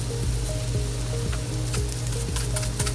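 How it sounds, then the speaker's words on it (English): Peppers, peppercorns, cayenne and crushed red pepper frying in a pan, a steady close sizzle with soft crackles and a low hum, no talking. "And then you just let them fry or saute"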